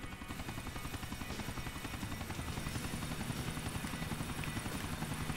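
Helicopter in the video game GTA 4, a steady rapid rotor chop with a constant engine drone, loud and close throughout with no talking.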